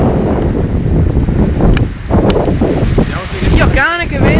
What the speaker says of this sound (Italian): che vento, là mi cade per terra il cellulare